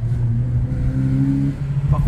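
A car engine in third gear, running rough and harsh with a steady low drone, rising slightly in a rev near the end, with someone talking over it.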